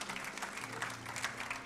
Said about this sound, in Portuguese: Aplauda ao Senhor Jesus a vida do pastor